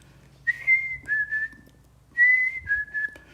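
A bird repeats a clear two-note whistled song twice, each phrase a high note followed by a slightly lower one, over faint background noise.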